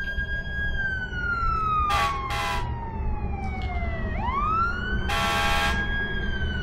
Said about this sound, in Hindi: शहर में पुलिस की गाड़ी की सायरन बज रही थी।